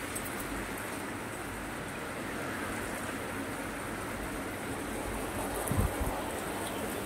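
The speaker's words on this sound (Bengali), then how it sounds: "দেখো অবস্থাটা কীভাবে বৃষ্টি হচ্ছে।" Heavy monsoon rain pouring outside a house, a constant dense wash of noise that stays even throughout, with a brief knock near the end and no talking.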